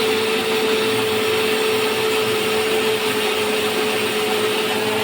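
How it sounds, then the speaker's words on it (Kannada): A mixer grinder jar whirs steadily while grinding chopped onion into a smooth paste, a loud, continuous motor drone with a constant high whine and no pauses. "ಈರುಳ್ಳಿನ ಈ ಥರ ಹೆಚ್ಚಿಬಿಟ್ಟು ಜಾರೊಳಗೆ ಹಾಕಿ ರುಬ್ಕೊಬೇಕು."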